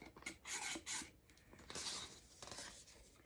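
A Sharpie marker drags along a ruler's straight edge across a 20 oz paper coffee cup, giving a few close, dry scratchy strokes in quick bursts with short pauses between them.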